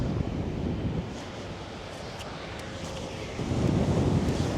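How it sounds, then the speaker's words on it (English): Steady wind roars across the microphone while riding a Brompton G Line folding bike on a touring trip in the Netherlands, a continuous broadband rush that swells louder near the end, with no voices. "it's like a warm wind coming from the west, so at least it's not a headwind"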